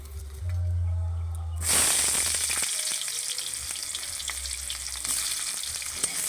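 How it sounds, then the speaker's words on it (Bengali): Chopped onion hits hot oil with bay leaf in a pan, bursting suddenly into a loud sizzle after a low hum, then settling into a steady close fry with light stirring scrapes. "পেঁয়াজটা ভালো করে লাল লাল করে ভেজে নেব"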